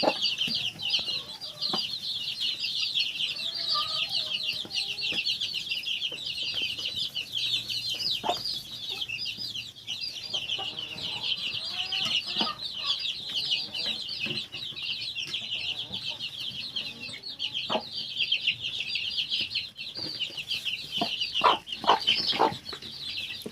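Small bantam chickens cluck and chatter steadily as they peck at fresh dill on a village farm in Ukraine. Many birds sound close together in a busy, continuous flock, with scattered sharp pecks and brief louder calls near the end.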